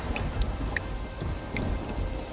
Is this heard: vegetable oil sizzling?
no